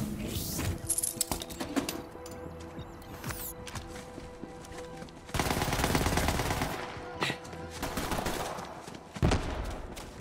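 Enemy gunfire in the Borderlands 3 video game: scattered sharp shots early on, then a loud sustained volley mid-way and more bursts near the end, with clicks and movement sounds between.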